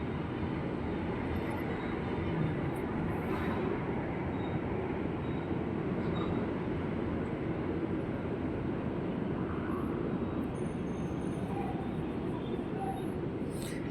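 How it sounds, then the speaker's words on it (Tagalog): An LRT light rail train passes nearby, producing a steady, loud, unbroken rumble and roar that fills the whole stretch, with faint higher clicks and squeals on top. "Sa LRT po, malapit lang ako dun. Kaya ang ingay, rinig na rinig."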